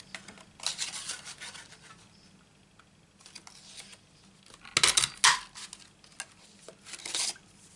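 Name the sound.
cutting out and punching paper card pieces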